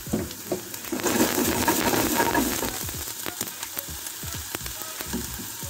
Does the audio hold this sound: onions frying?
yes